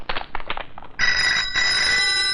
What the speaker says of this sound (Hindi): निकलते वक्त फोन की घंटी